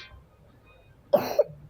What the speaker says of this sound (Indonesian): Aduh batuk lagi guys.